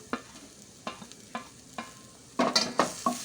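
Grated coconut fries with sliced chicken in a pan under a faint sizzle, while a utensil stirs and scrapes in a series of distinct, close strokes that come quicker toward the end.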